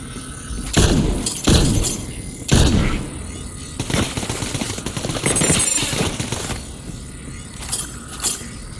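Gunfire in the Borderlands 3 video game comes as several loud, sharp bursts and rattling volleys in the first few seconds, followed by fainter, scattered shots and clanks among game sounds.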